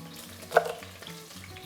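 Lamb meat frying in a pan for a lamb and green olive tajine: a steady low sizzle with a brief louder crackle partway through, heard close and alone with no talking.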